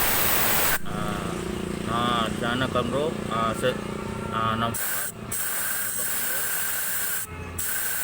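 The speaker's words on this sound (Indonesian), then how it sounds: "Saya semprot ya biar jelas" Spray from a can hisses steadily and loudly into the clogged oil passage of a Jupiter Z motorcycle engine, running in long continuous bursts with brief breaks, while someone talks over the start.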